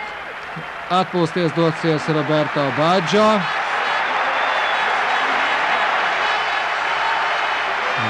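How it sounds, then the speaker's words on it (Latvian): A stadium crowd at a football match roars with sustained applause and ovation, a dense continuous wash of far-off noise; a commentator talks over the first few seconds before the crowd carries on alone. "Tūdaļ gan būs ļoti skaļi aplausi,"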